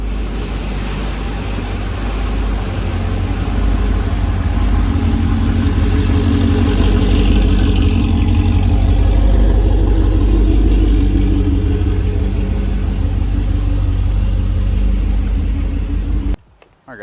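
A supercharged Pontiac G8 running on E85 rumbles steadily at a low idle as it rolls indoors, a deep, even drone sustained close by for most of the stretch before cutting off abruptly near the end.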